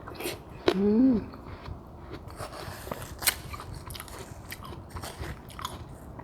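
Someone bites into watermelon with a loud crunch, then chews softly and wetly up close, with a few faint clicks and low background noise in a quiet room.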